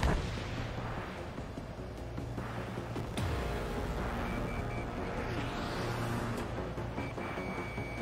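Aircraft cannon firing in the jet combat game Ace Combat 7, a continuous rumbling rattle of rapid shots over steady engine roar, with a sharper burst midway, loud and dense throughout.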